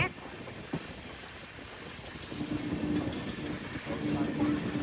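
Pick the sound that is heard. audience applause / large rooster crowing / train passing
train passing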